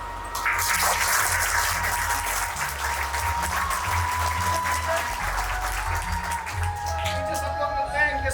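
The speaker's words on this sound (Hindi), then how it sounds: "इसलिए आज तालियों के हकदार है" Audience applause at a NEET 2023 results celebration held by IMA Jodhpur, with sustained dense clapping from a large crowd that fills the whole stretch at steady loudness, while voices and some music run faintly underneath.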